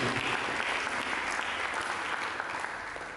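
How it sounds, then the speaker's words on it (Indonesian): A church congregation applauds together in a dense, steady wash of clapping that fills the whole clip at close range and eases off slightly toward the end. "Mari kita berikan tepuk tangan."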